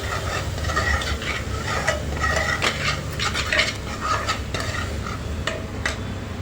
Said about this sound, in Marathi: मसाला छान परतून घ्यायचा आपल्याला